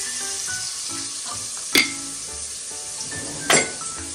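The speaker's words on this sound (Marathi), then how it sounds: "आणि मग त्याला थोडासा व्यवस्थित परतून घ्या थोडासा लाल करून द्या" Mutton masala for a spicy village-style mutton rassa sautés in a pan with a steady sizzle, broken by two sharp metallic clinks of a utensil against the pan.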